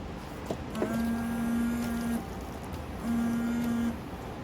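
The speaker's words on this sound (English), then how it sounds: "Let's go ahead and turn the wipers on." Windshield wiper motor on a 2003-2011 Ford Crown Victoria running, a steady mechanical whir in two sweeps, one longer then a shorter one after a pause, close and moderately loud with no talking.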